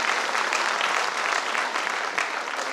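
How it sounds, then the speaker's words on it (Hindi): An audience claps steadily and loudly for dance performers at a company launch event, a dense unbroken wash of applause lasting the whole stretch. "एक बार जोरदार तालियां हमारे सभी परफॉर्मर्स के लिए।"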